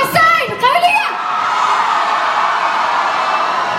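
Crowd of children shouting and cheering for their side at a lively event, loud voices in the first second then a sustained noisy roar of chatter.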